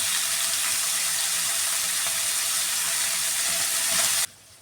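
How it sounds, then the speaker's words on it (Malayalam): Prawns for a Kerala-style prawn roast fry in a pan on a medium flame, giving a steady, close hiss of sizzling oil that stops abruptly near the end. "അത് മീഡിയം ഫ്ലെയിമിലിട്ടാണ് ഫ്രൈ ചെയ്യുന്നത്."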